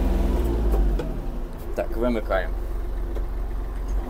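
Kubota GL-320 mini tractor creeping along in low first gear, its small engine a steady low idle-like chug throughout, with someone talking over it briefly.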